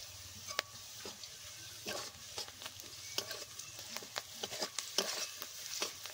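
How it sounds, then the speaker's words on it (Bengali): Onions and green chilies frying in hot oil with black cumin seeds for a Bengali vegetable fish curry, a steady close sizzle with scattered crackles and stirring scrapes, no voices. "এবার তেলের মধ্যে আমি পেঁয়াজ আর কাঁচা লঙ্কা দিয়ে দিচ্ছি।"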